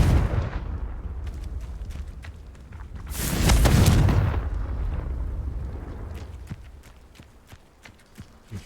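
In a Harry Potter video game, a blasting spell goes off as a booming explosion with a roaring, crackling burst, set among clattering in-game effects and rumble that gradually fade away.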